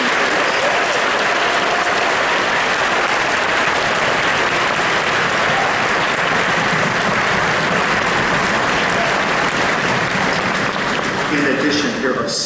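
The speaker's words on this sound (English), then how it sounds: "How about a round of applause for those?" Audience applause at a university honor band concert keeps up as a dense, loud, steady wash of clapping from a large crowd, with a voice starting near the end.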